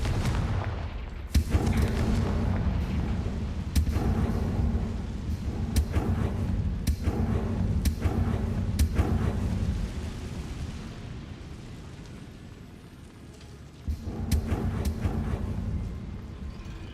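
Hogwarts Legacy Confringo fire spell blasts: a series of sharp booming impacts spaced about every second or two, each with a rumbling tail, then a fainter lull and one more hit, with no talk.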